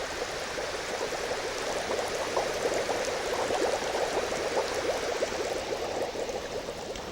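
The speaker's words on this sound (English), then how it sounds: "As I increase the amount of bubbles, the ball will sit deeper in the fluid." Dense, steady bubbling of air rising through water in a tank, a continuous close fizzing and gurgling wash that holds at an even level throughout, with no voices.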